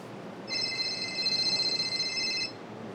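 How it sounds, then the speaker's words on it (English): A mobile phone goes off during a comedy compliment-battle show, sounding one steady two-second burst of bright electronic ringing, fairly clear above a quiet room hush, with no talking. "in about 3 seconds from now, my phone will go off"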